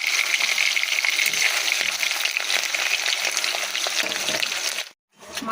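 Fish fries in oil in a pan, giving a continuous crackling sizzle with occasional stirring clicks; it cuts out briefly near the end before resuming.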